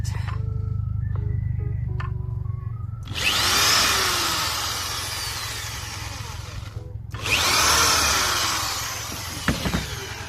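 A power drill driving screws into a van during a rebuild, two long whirring runs of several seconds each, loud and close, with quiet clicks and handling noises before and between them.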